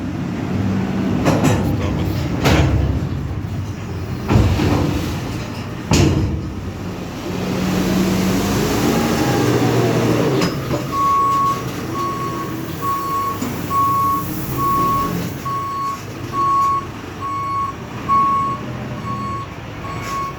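Reversing beeps sound steadily from a truck being loaded with wheat by a loader bucket in a farm yard. Engine rumble and clanking from loading come first, then the regular beeping repeats for about ten seconds over the machinery noise.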